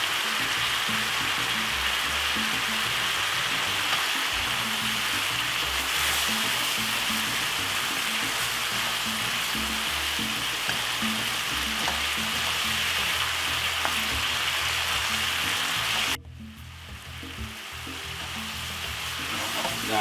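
Beef for Caribbean pepper steak sizzles steadily in a hot pan with scraping stirs throughout, frying noise dense and continuous, dropping quieter briefly near the end.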